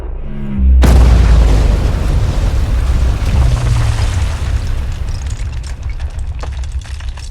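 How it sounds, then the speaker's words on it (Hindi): A sudden, massive boom bursts in after a brief quiet, followed by a long, roaring rumble that slowly decays with crackling debris. "तब एक जोरदार धमाका हुआ"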